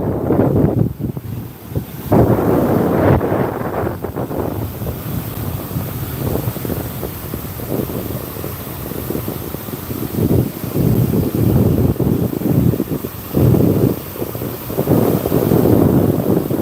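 Gusty wind on Pensacola Beach blasts across the microphone for a long stretch, loud and rumbling, surging and easing in waves, with no one speaking.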